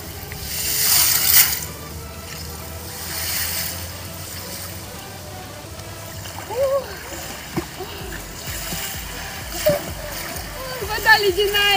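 Water splashes and sloshes as someone swims in icy water through a hole in the ice, with bursts of splashing near the start and scattered splashes later, voices talking over it.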